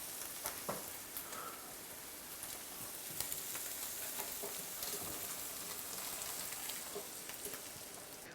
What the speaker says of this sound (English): I'll pour my eggs in there for the scrambled eggs